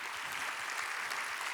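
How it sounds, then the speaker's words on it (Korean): Soft applause from a church college-group audience welcoming new members, a steady patter of clapping that is faint and distant throughout. "박수하겠습니다."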